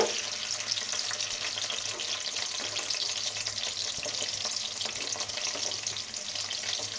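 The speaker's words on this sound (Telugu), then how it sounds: "ఇంకా ఉల్లిపాయలు బాగా ఫ్రై అవ్వాలన్నమాట" Thinly sliced onions frying in oil with cumin seeds and a dried red chilli, a steady, fairly loud hiss with light scattered crackles and an occasional faint stir, no talking.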